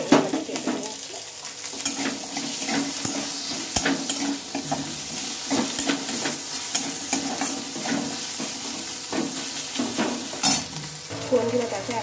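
Garlic, ginger, green chili and chopped onion fry in a pan with a dense, continuous sizzle, punctuated by clatters and scrapes of stirring, close and fairly loud, no talking.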